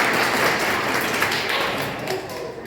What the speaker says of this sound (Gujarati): ત્યારે આપણે સૌ તેમનું તાળીઓથી સ્વાગત કરશું